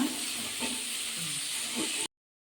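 Onion and tomato fry in a pan for ragi shavige with a steady soft hiss of steam and sizzling, close and fairly quiet, cutting to silence just before the end.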